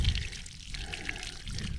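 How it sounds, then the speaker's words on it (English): Water runs from a black garden hose onto tomato plants in a garden, a steady close pouring stream that is continuous and moderately loud, with no voices. "the water's obviously being directed out of the hose down that way"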